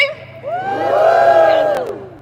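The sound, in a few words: crowd whooping at London clean water march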